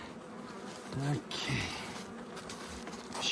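Bees humming around an open hive in March as a beekeeper works it, a steady close drone with a brief louder swell and a short spoken word over it.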